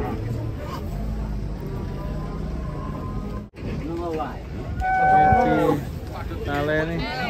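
Cattle moo repeatedly as they are unloaded from a truck, with several long, loud calls rising near the end, over background voices and crowd murmur.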